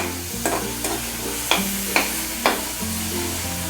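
Banana pieces frying in ghee in a pan, a steady close sizzle under a low hum, with a few sharp stirring scrapes and clinks of a utensil against the pan.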